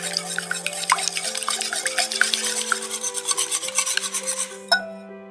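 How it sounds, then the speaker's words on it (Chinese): Rapid rhythmic whisking of egg yolks with water and a pinch of salt in a bowl, a continuous close scratchy stirring that stops abruptly near the end. "将蛋黄弄散，"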